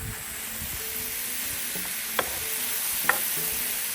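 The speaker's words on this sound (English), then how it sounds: "Peppers and onions always go on first, they take the longest." Peppers and onions sizzling in a pan on an outdoor griddle at a state park campsite, a steady low sizzle with a couple of sharp metallic scrapes and taps from a cooking tool.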